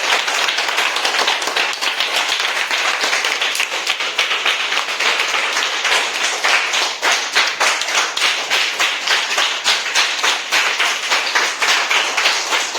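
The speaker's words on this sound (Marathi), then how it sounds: "मग त्यांच्यासाठी पुन्हा एकदा जोरदार टाळ्या वाजवायला काय हरकत आहे?" Schoolchildren at a primary school in the Konkan clap together in sustained, fairly rhythmic applause, loud and close, with no talking over it.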